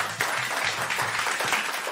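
Brief burst of studio audience applause at an entertainment talk show, dense crowd clapping held steady and fairly loud with no voices over it.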